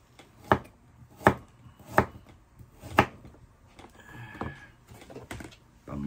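A knife chopping carrots and potatoes on a board, four evenly spaced crisp thuds, then softer scattered knocks and a brief scrape, close and clear.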